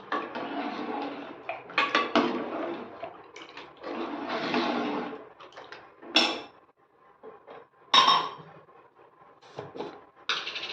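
A spoon scrapes and clatters in a pot of moong dal and coconut milk payasam, in bursts of metallic stirring separated by short pauses, close and moderately loud.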